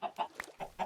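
A Minecraft chicken clucks in short, separate bursts, about five quick clucks in under a second, fairly quiet with no talk over it.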